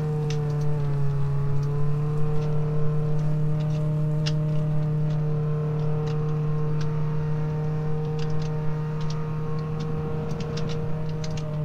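Car driving in the Roblox game Jailbreak, a steady, even engine drone with a strong constant hum holding level throughout, alone with no talk.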